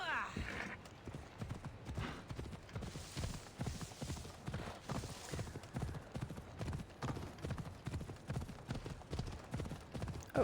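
Steady clip-clop of horse hooves galloping in Assassin's Creed: The Fate of Atlantis, with rhythmic, fairly close hoofbeats running through the whole stretch and a brief whinny, while someone talks over it.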